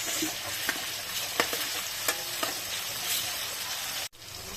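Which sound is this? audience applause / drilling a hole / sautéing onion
sautéing onion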